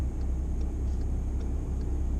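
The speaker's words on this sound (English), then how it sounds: "Oh, no, there's a car coming." A low, steady engine rumble of a car nearby, holding constant for a couple of seconds with no voices.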